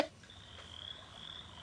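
Frog croaking played by a sleep sound gadget, a faint, thin sustained croaking tone running steadily through after a soft click at the start, quiet and alone.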